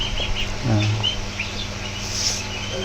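Quail chirp and call near at hand in a busy cluster, with a low clucking note and a background of faint insect-like buzzing.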